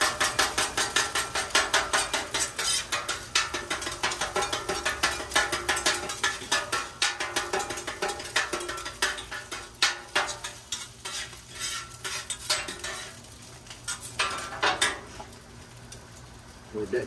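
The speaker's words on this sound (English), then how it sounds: "we're gonna chop up our eggs" A metal spatula chops eggs on a Blackstone griddle in rapid, continuous clacking strokes over a steady sizzle, loud and close, slowing briefly near the end.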